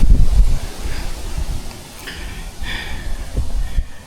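Wind gusts buffet the microphone while camping on Moreton Island, a loud rumbling roar that swells and eases over a few seconds, with faint rustling in the background and no voices.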